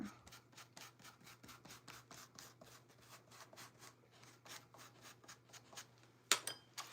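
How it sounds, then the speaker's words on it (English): A stencil brush rubs over a surface in quick, repeated scrubbing strokes, close and fairly soft, with a sharper scrape or tap near the end. "Just kind of rubbing my brush on there."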